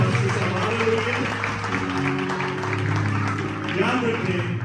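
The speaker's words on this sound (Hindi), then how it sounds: "जोरदार तालियां" A church congregation at a praise and worship gathering applauds in a broad, continuous wash of clapping, mixed with voices and a sustained musical tone underneath.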